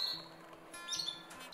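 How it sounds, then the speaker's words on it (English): Female canaries give a few short, faint chirps and squeaks against quiet indoor background noise. "Females chirp, males sing."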